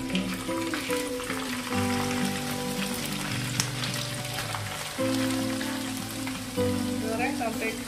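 Teri anchovies fry in hot oil for a balado dish, giving a steady, dense crackling sizzle that runs throughout over a bed of background music.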